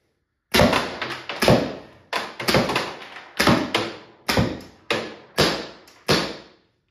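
A Tippmann TiPX paintball pistol with a stock spool valve, running on a 28 g CO2 cartridge, fires twelve sharp, punchy shots in quick uneven pairs and singles, each with a short hiss of gas trailing off, loud and close.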